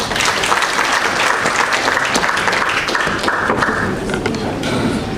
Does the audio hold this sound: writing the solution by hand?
no